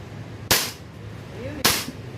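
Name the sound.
gunshots from 2011 STI pistol at firing range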